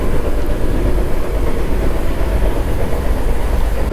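Inside the chair car of the Vande Bharat Express 20701 running from Nellore to Tirupati, a loud, steady rolling rumble fills the cabin with no talk.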